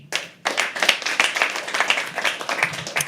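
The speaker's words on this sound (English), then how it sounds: "can we keep the applause going?" Audience clapping at a live poetry open mic, a crowd of hands applauding in a dense, steady burst that starts sharply and carries on throughout.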